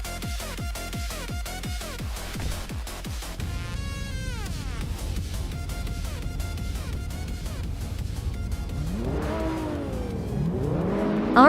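Racing cars in a video game, including a Peugeot GTI, rev loudly and shift through rising engine notes as several cars run close together, with tire noise and engines overlapping and no talking.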